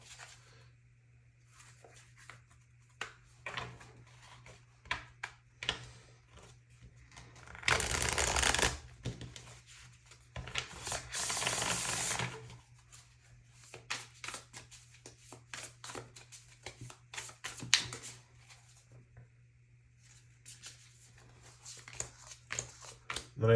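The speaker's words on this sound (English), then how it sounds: "let's get some tarot cards on the table for you guys" A deck of tarot cards is shuffled close by, with soft papery riffles and taps punctuated by two louder, longer riffle bursts.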